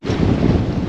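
Strong wind of 25-30 knots buffets a boat at sea, roaring loudly and steadily against the microphone with a low rumble, the wash of water beneath it and no voices.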